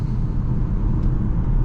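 Steady low exhaust drone from a 2020 Toyota Supra 3.0 in normal mode, a subdued, even rumble heard from inside the cabin while cruising, with no revs or pops.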